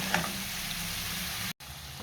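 Onions sauté in a pan, giving a steady, close sizzling hiss that runs on evenly with one tiny tick near the start and a very brief dropout before it resumes.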